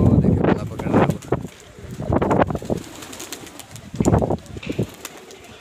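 Pigeons coo and flutter in several short bursts against gusty wind noise in bad weather, fairly close, with quiet gaps between.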